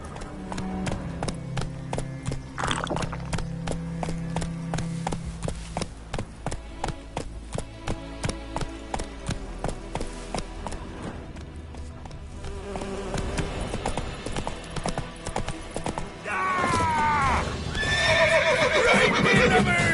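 Roach, a horse in The Witcher 3, gallops with a fast, rhythmic drumming of hooves against busy game sounds, and a whinny near the end.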